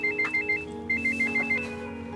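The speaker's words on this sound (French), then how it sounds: "Excusez-moi. Téléphone." Telephone ringing in quick repeated trilling bursts, two clear ring cycles with a pause between, moderately loud indoors with no talking.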